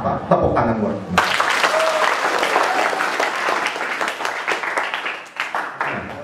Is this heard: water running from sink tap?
no